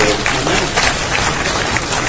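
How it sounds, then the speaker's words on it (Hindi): An audience at a Lucknow theatre-artists' celebration of World Hindi Theatre Day breaks into steady, dense clapping that fills the whole moment at close, even loudness. "उसके लिए एक बार ताली बजा दीजिए।"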